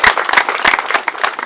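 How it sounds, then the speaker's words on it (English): A round of applause from an audience at a police anti-crime unit promotion ceremony, brisk dense clapping close by with no talking. "If the parents are here, let's give them a big round of applause."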